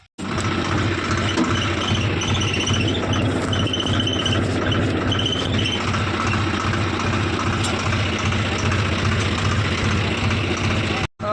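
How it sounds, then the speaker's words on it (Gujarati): A steady, rumbling engine idles continuously throughout, loud and close, with a low droning hum and no breaks. "અમારો ઓપરેટર ભાઈ ટ્રેક્ટર લઈને આવી ગયા છે"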